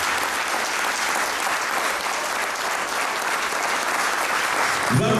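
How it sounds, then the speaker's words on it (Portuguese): A church congregation at an Angolan independence anniversary thanksgiving service in London applauds for the mother: a full, continuous round of clapping that holds steady before a brief low thump near the end. "Vamos aumentar palmas para a mamã."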